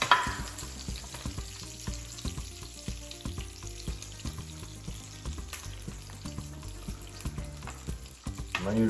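Magret duck breast and vegetables sizzle and crackle steadily in a hot pan, with a busy, popping frying texture and occasional stirring clatter throughout.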